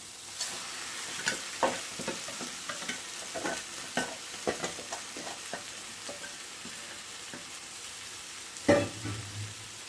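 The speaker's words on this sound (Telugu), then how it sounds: "ఫ్రై అయిన తర్వాత ఇప్పుడు మనం ఉప్పు, కారం, పసుపు కలుపుకొని ఉంచుకున్నాం కదా పక్కన చేపలు, వాటిని ఇందులో వేసేసుకోవాలి" Fish pieces coated with salt, chili powder and turmeric drop into a hot frying pan for a Vizag-style fish curry, then get stirred gently; steady sizzling under scattered utensil scrapes and clinks, with one louder splash near the end.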